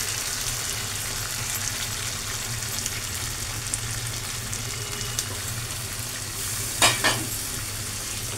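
Spiced potato and pointed gourd curry, with cashew and poppy seed paste, stirred in a pan over low heat, a soft continuous sizzle with light scrapes and a couple of sharper clinks of the utensil near the end.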